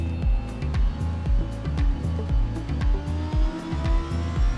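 A racing car engine in a sim racing game revs up in repeated rising bursts between gear changes, loud and close, with tire squeal mixed in and no talk.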